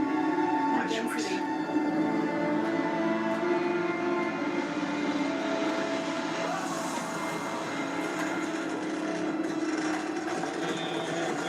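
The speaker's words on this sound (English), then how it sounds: "There goes the train." A train passes in a TV drama scene, heard as a steady, continuous rumble layered with sustained tonal hum that stays loud and even for the whole stretch, without clear breaks.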